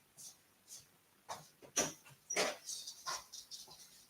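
A dog makes a run of short whimpers and yips at moderate distance, scattered irregularly through the stretch with quiet gaps between them; no one speaks.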